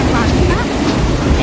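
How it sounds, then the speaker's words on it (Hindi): Loud, continuous rushing roar of the Shivnath river in Durg running high, a dense, steady wash of water noise close to the microphone with some wind buffeting. "पानी की आवाज़ बहुत तेज़ है"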